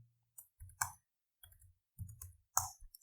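Sharp mouse clicks in a Google Forms and Sheets setup, about six quick clicks in loose pairs with silence between, close and crisp, no talk.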